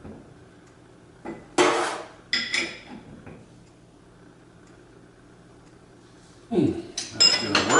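Metal tools clink and scrape while a set screw is tightened on a Delta Rockwell Unisaw table saw, with a few sharp metallic bursts separated by quiet stretches, close by and without speech.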